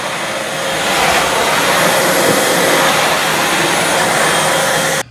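A Dyson V12 Detect Slim cordless stick vacuum runs with a loud, steady, close whine that holds level for about five seconds before cutting off abruptly.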